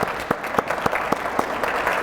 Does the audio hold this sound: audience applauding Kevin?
yes